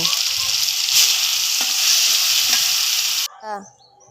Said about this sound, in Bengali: তখন তেল গরম হয়ে যাওয়ার পর মাছগুলোকে দিয়ে দিলাম।